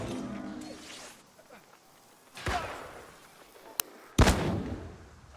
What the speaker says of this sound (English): He timed the explosion, so when he got stunned, he came after him.